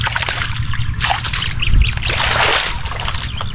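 Irrigation water on a farm runs in a steady, close rush of trickling and splashing, with gurgling surges throughout and no voices.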